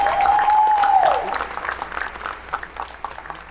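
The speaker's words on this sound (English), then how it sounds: "Let's give ourselves a round of applause." A crowd at a senior awards assembly bursts into applause, with a loud whoop or whistle at the start, the clapping gradually thinning out.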